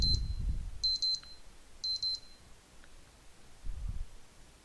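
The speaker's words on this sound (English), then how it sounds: "That's my beeper to tell me I need to go pick up my daughter from school." An electronic beeper alarm sounds in short bursts of rapid high beeps, three groups spaced about a second apart, fairly faint with low rumbling handling noise around them and no talk.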